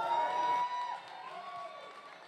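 Crowd at the 2022 Texas Country Music Awards at Billy Bob's Texas applauds and cheers for a singer, a dense, steady wash of clapping and whoops that swells early and then eases slightly, with faint voices in the mix.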